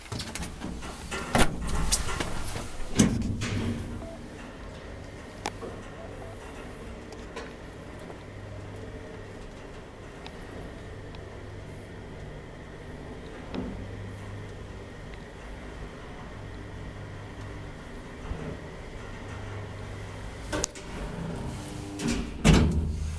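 An old Kone traction elevator in an apartment building in Espoo riding between floors: door slides and clunks at the start and end, with a long low machine hum and rumble in between.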